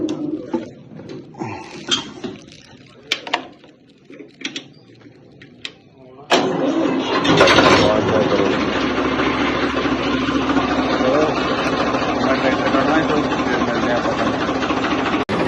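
An old Farmtrac tractor engine fires up after a few scattered knocks and voices, then settles into a loud, steady diesel idle that runs evenly to the end.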